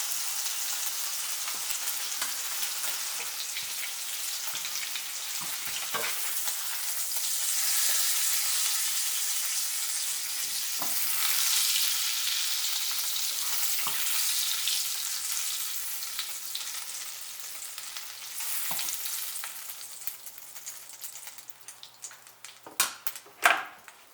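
Bacon and onions fry steadily in a pan while an omelet cooks alongside, a dense continuous sizzle with small pops and crackles throughout and a few sharper clicks near the end; no one speaks.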